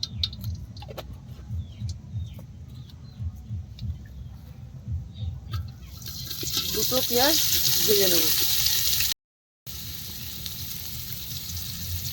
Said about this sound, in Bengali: এতে অল্প করে ঘি আর রিফাইন তেল দিয়ে দেবো দিয়ে পেঁয়াজটা বেরস্ত করে নেবো